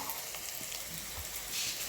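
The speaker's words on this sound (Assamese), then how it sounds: "এয়া এতিয়া ফ্ৰাই কৰি আছোঁ মছলা পিঁয়াজ নহৰু মছলা" Onion, garlic and spices frying in hot oil in a home kitchen pan, a steady close sizzle with faint crackles and no talking.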